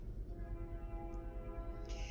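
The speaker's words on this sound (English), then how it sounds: "if you hear that train going by, I apologize" A train rumbles past a workshop roughly 200 yards away, a low steady rolling drone with rhythmic wheel clatter and a faint higher whine toward the end.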